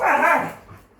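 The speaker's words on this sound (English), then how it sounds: "My dogs." Dogs barking close by in a quick burst of loud barks that fade within a second, with a slight growling edge and no talking.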